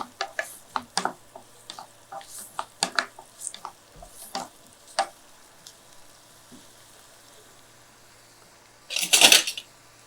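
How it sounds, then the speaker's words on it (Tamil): Onions sauté in a pan for cutlets, with a faint low sizzle punctuated by scattered sharp clicks and taps of stirring, and a louder burst of scraping near the end. "வெங்காயம் அப்படியே கலர் மாறி அப்படிலாம் இல்லாமல் ஓரளவு கொஞ்சம் நல்லா வதங்குச்சுன்னா போதும்."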